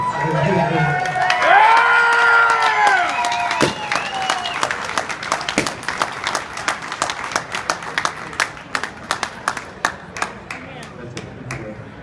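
Crowd at a Spyderfest gathering bursts into applause and cheering, with a loud opening swell of shouts and claps that thins into scattered, distinct claps; voices call out over it.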